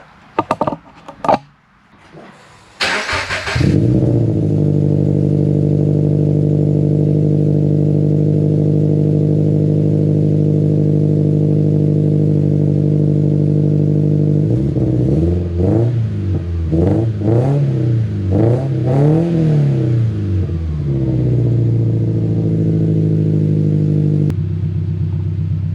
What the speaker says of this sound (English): So let me start the car and see.